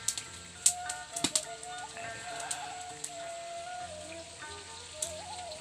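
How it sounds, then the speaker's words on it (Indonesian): Light drizzle patters outside in a rural village in Pangandaran, a steady soft wash with scattered drip taps and faint background tones, no voices. "Apalagi di luar sudah mulai rintik-rintik hujan."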